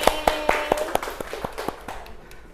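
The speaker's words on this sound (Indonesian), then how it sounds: "tepuk tangan dong buat kita semua" Group of teachers at a school discussion session clapping hands together, a string of about a dozen crisp claps in an even rhythm that gradually fades and loosens.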